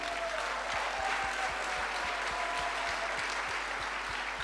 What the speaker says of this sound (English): Big round of applause for my Australian family, man.